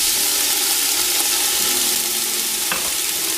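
Onions hitting hot olive oil in a pot over high heat give a loud, steady, close sizzle with a broad hiss that continues without a break.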